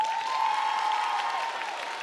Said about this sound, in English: Y'all, we could clap better for him than that.